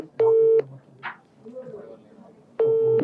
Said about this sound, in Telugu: డైరెక్ట్ లైవ్ లో ఫోన్ చేసి ప్రయత్నం చేస్తున్నాం.